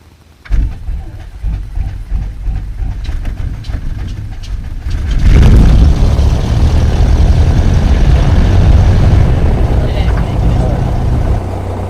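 A small airplane's propeller engine cranks and catches, then settles into a loud, steady idle that continues to the end, with voices heard faintly at the start.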